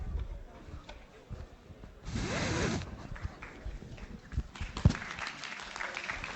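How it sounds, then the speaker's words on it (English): Students in a university lecture hall clap briefly at the end of a computer science lecture, a short muffled burst of applause around the middle, faint and distant beneath some murmuring and shuffling. "Why do you guys clap?"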